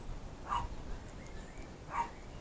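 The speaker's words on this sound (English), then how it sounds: "he's still barking." A dog somewhere off in the distance gives two faint, separate barks about a second and a half apart over a quiet outdoor background.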